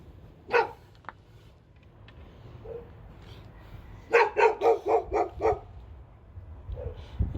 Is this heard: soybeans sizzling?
no